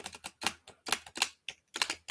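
Tarot cards shuffled by hand at a table: a quick run of close, crisp riffling clicks and flutters in short bursts with brief pauses, with no talk.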